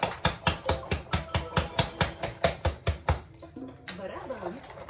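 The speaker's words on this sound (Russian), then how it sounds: "Силофон." A toy hammer strikes a toy xylophone in a quick, even run of about a dozen bright, close taps, followed by a softer jumble of toy tones.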